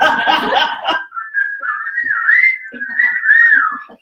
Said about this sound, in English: Shall we have a whistle?